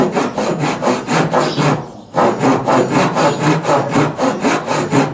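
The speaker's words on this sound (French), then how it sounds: "Je vais entamer à la scie." Hand saw cutting through wood during restoration of an old wooden caravan, steady rhythmic back-and-forth rasping strokes, close and loud, with a brief pause midway before the sawing resumes.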